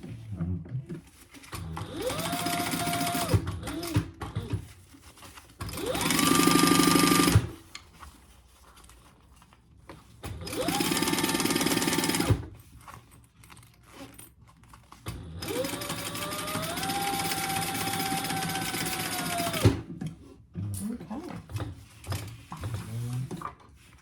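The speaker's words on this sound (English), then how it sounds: "we have enough bobbin for all the outside top stitching" A sewing machine top stitching the outside of a crossbody bag, running in three separate whirring bursts with quiet pauses between them, close and steady.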